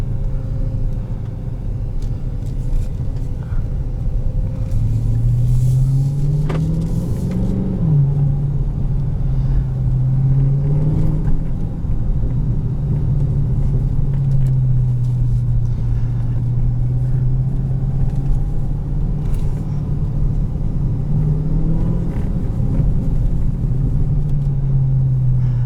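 A 2018 Dodge Charger Hellcat sedan with a 700-horsepower engine cruising in auto mode, a loud steady low engine rumble with gentle rises and falls in pitch heard from inside the cabin.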